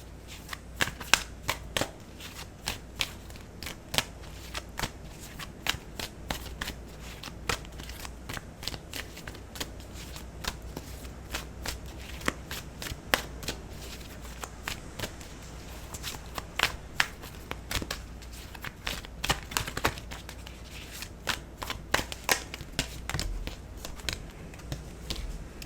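Tarot cards are shuffled by hand in repeated quick bursts of crisp riffling and slapping, close and clear, with short pauses between rounds throughout.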